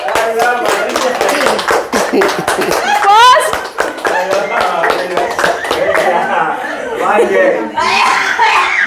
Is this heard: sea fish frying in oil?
no